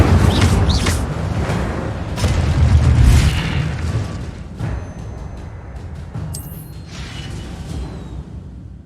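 A fire spell cast in the Hogwarts Legacy video game, heard as a loud booming burst with a crackling whoosh that swells around the middle and then fades into lower rumbling game ambience, with no talk.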